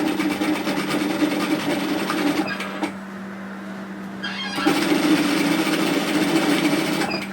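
Sewing machine stitching through a dress bodice, a loud rapid mechanical whir running steadily, pausing for about two seconds, then resuming just as strongly; no talk.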